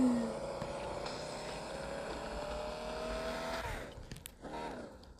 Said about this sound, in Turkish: Şu arabanın egzoz sesine bir bakar mısınız?